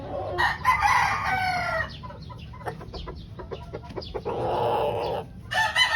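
Young gamecock stags crow repeatedly at close range, several harsh, strained cock-a-doodle calls overlapping with clucks and short barnyard noises over a low background murmur.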